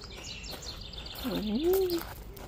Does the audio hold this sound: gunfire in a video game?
no